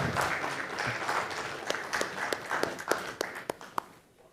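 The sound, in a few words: applause for Nirmal sir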